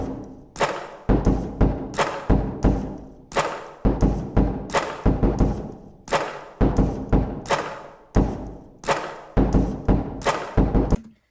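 A punchy, rhythmic drum beat built entirely from Goldfish cracker sounds, crunchy, snappy percussive hits, steady and looping with thumps and crackly snaps, no voices.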